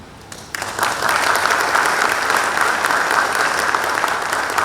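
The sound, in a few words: applause for the representative at coach inauguration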